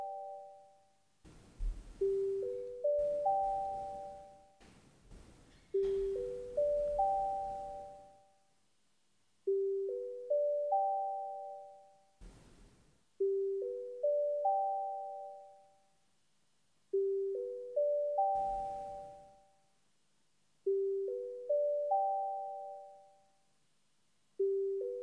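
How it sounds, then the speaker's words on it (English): Division bell in a council chamber sounding as an electronic chime, a rising four-note ding-dong pattern repeated again and again with short pauses between rounds, clear and alone in the room. "The bell will ring for 5 minutes."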